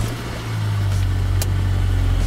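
An old car's engine fires up and settles into a loud, steady idle with a low droning hum and a brief sharp rise in the middle, close to the microphone, with no talk.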